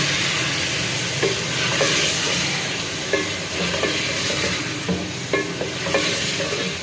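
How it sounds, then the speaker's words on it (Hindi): Meat frying with garlic ginger paste in a pot for nihari, a constant loud sizzle with intermittent scraping strokes of stirring, close up and without talk. "अब ये लहसुन अदरक का पेस्ट डाल लेंगे और भूनते हैं थोड़ा सा हंडिया को"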